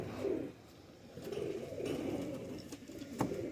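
A lakha pigeon with a neck band coos in soft, low repeated phrases, close by, with brief pauses between calls.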